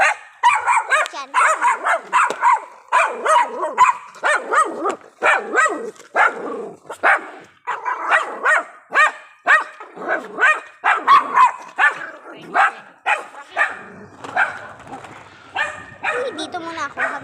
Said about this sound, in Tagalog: Tumatawag na ang aso.